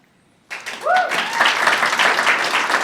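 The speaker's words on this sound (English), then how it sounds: "You can clap at the end of these" At a youth leadership graduation ceremony, an audience breaks into applause after a brief silence, clapping building quickly and holding steady, with a short voice or whistle-like sound rising early on.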